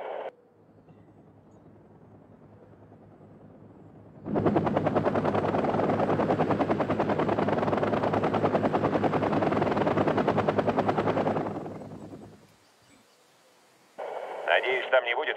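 A helicopter lifts off in the strategy game Wargame: Red Dragon during a Soviet campaign. Its rotor chop surges in loud and steady for several seconds, then fades, with brief radio-style voices before and after.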